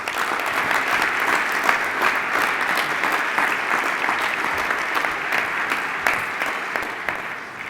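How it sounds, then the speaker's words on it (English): Audience applause and cheering at a conference coach-of-the-year awards luncheon honoring league staff, steady dense clapping from a large crowd throughout with no talk. "give a big cheer and a round of applause to people that work way far and beyond what is required"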